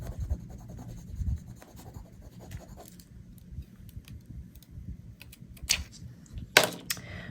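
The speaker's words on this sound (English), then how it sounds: "you can burnish again." Paper pressed onto a handmade card is burnished with a tool, giving soft, irregular scraping and rubbing strokes that end in a couple of sharper scratches.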